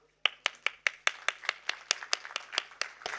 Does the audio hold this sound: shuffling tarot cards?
no